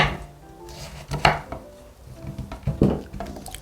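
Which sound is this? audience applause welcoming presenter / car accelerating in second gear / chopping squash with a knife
chopping squash with a knife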